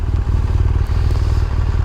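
A 2015 GS motorcycle fitted with an aftermarket exhaust idles close by, its engine throbbing in a loud, steady low rumble with light mechanical clatter over it.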